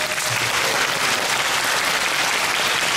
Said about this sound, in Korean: 그 박수 한번 주시죠.